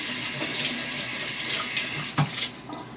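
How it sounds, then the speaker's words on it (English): Hands rinsed under a running kitchen tap while making stuffed manicotti, a steady loud gush of water for about two seconds, then broken splashes as the hands move in and out of the stream. "Rinse my hands off"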